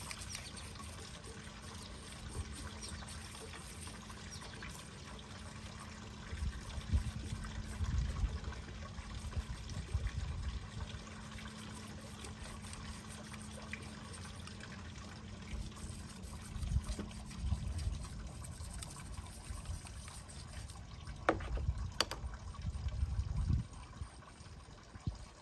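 Old gasoline is poured and splashed over a filthy carburetor from a Honda GX300 engine, quiet intermittent trickling and dribbling with a low background hum and occasional louder splashes.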